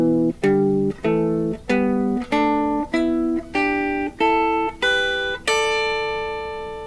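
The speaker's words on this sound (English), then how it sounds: "So double stops are when we play the scale 2 strings at a time" A guitar plays a pentatonic scale as double stops, two strings sounding together on each pluck, eight evenly spaced dyads climbing in pitch with the final pair ringing out, with no voice over it.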